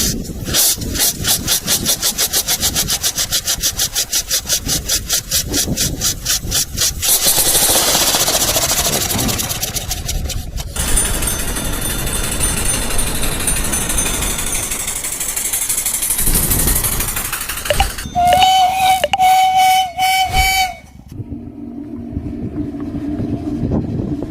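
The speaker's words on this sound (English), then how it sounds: "Steam motorcycle." A homemade steam motorcycle runs with a rapid chugging, then a rough rushing roar and hiss that shifts in intensity, ending with sharp pulsing bursts and a whistling tone before it cuts off.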